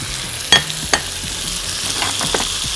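Onions sauté in a hot pan under a steady sizzle, broken by two sharp utensil scrapes early on and softer stirring clatter toward the end.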